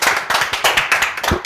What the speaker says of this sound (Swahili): Makofi ya the Kiddos.